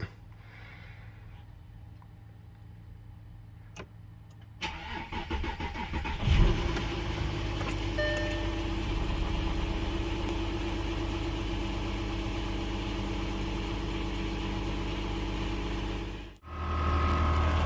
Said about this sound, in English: All there is left to do now is start the car.